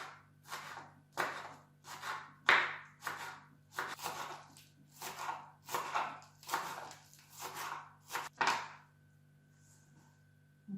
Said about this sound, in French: On va aussi découper l'oignon en petites rondelles.